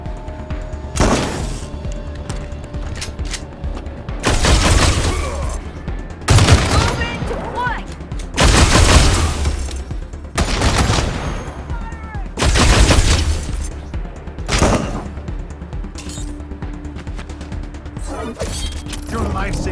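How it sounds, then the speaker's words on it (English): Suppressing gunfire in Wasteland 3, loud separate bursts of automatic fire and impacts arriving every couple of seconds over a steady battle background, with voices heard between them. "Suppressing fire!"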